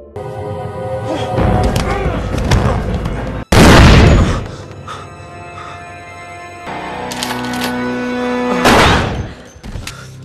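Several loud, sharp gunshots ring out amid a busy cinematic soundscape with music, one big burst near the middle and another near the end.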